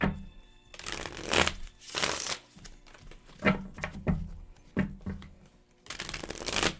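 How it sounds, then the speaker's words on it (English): Cards are shuffled in several quick riffling bursts with short pauses between, close by and fairly soft, with no talking. "I'm shuffling on camera so you see that I'm doing it."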